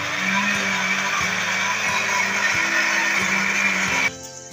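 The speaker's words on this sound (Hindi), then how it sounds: "इसको ब्लेंडर में डाल दिया, अब इसको करेंगे ग्राइंड और ये जो लहसुन है ये भी इसके अंदर ही ऐड कर देंगे।" A kitchen blender grinds tomatoes and garlic in a loud, steady whir with a regular pulsing thump, then cuts off abruptly near the end, leaving a quieter hum.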